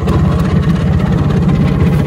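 A 30-year-old Bajaj Chetak scooter's small engine idles nearby, a loud, steady, throbbing putter with fast even pulses and a rattly vibration.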